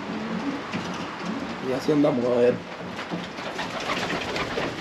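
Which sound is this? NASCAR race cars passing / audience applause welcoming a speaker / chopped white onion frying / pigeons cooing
pigeons cooing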